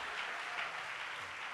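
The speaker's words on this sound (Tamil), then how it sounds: "என்ன விசுவாச கைத்தட்டு!" A church congregation claps hands together in a continuous, dense wash of applause, loud and even throughout, with no pauses or individual claps standing out.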